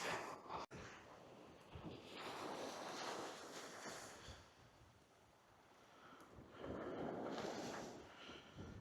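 Wind gusting across Ugie Beach at Peterhead, buffeting the microphone in a steady roar that swells and eases, with surf-like rumble beneath and no talk.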